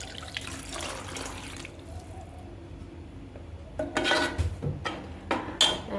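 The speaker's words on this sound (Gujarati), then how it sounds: "હવે આપણે થોડું પાણી નાખી દઈશું" Water splashes and gurgles into a pot of mung bean curry after a stretch of low stirring and scraping, with some clinks of utensils against metal.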